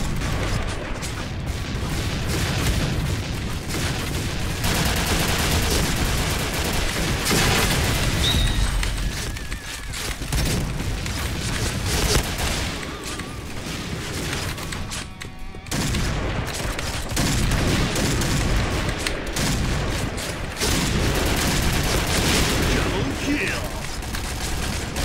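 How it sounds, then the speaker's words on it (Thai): Heavy gunfire hits the player's base in the shooter Point Blank, a dense, continuous barrage of loud shots and booms that barely lets up, with a brief dip near the middle. "ได้ยินเสียงบ้านเราโดนยิงเยอะ"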